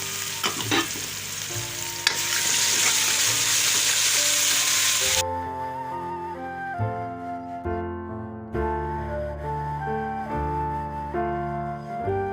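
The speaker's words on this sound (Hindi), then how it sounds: "ये सब्ज़ मिर्ची का पेस्ट शामिल कर रही हूँ।" Green chili paste spits and sizzles hard in hot oil for about five seconds while it is stirred, then the frying noise drops away, leaving only soft background music.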